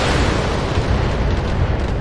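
BattleTech mechs firing all weapons, a dense, continuous rumble of booming blasts and explosions, loud and close with no pauses.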